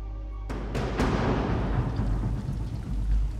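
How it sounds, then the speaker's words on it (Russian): A storm over a harbor in a video game: several sharp thunder cracks in quick succession, followed by a dense, steady hiss of heavy rain with low rumbling underneath. "Шторм в гавани."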